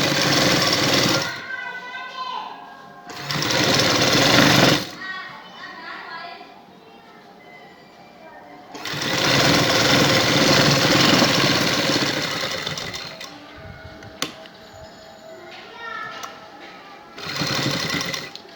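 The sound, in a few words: sewing machine stitching a kameez neck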